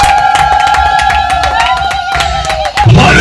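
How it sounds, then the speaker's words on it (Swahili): A church congregation at a preaching service sends up a loud, sustained crowd sound of high trilling ululation with scattered clapping and cheering, ending in a burst of noise. "Piga vigelegele kwa Bwana Yesu."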